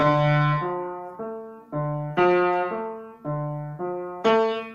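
Piano notes played in groups of three, with some notes struck noticeably louder than others, giving the repeated triplets an uneven, lurching feel.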